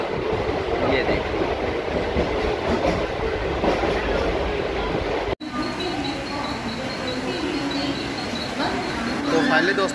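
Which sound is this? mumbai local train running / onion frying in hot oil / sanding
mumbai local train running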